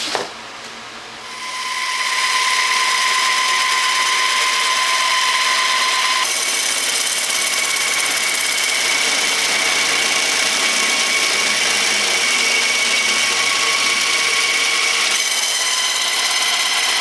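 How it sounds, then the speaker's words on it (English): Bandsaw cutting through hatch bulkhead material, a steady loud whining drone with high metallic overtones that starts after a brief quiet moment and runs continuously, with small shifts in pitch as the blade works. "so I'm actually going to try to cut this with a bandsaw."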